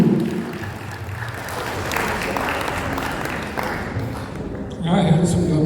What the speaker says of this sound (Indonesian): Tepuk tangan dong Abang dan juga Inang dong,